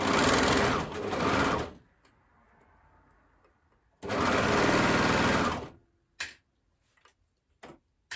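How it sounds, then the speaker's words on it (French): An overlock machine sewing the hem of a cardigan, running in two loud, fast, steady bursts of stitching separated by a pause, with a few light mechanical ticks after. "c'est parti pour la couture de l'ourlet"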